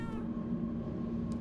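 A cat in the video game Tokyo Dark gives a single drawn-out meow, fairly close and clear over a low background hum.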